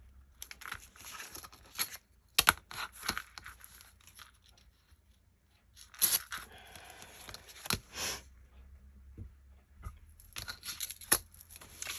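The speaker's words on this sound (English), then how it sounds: "so I'm going to cut a little bit off of that." Scissors trimming a small piece off crafting paper, with scattered close snips, crinkles and rustles in irregular bursts, fairly quiet and without talk.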